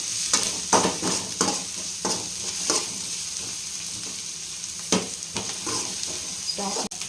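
Chopped ginger and garlic frying in a pan for homemade noodles, a loud continuous sizzle broken by repeated scraping stir strokes and a utensil clink near the end, up close with no voices.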